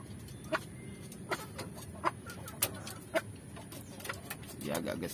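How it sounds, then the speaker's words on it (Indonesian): A green junglefowl among ornamental chickens at afternoon feeding gives a run of short, faint clucks at a steady, scattered pace over a noisy outdoor background. "Ini jenis ayam hutan hijau,"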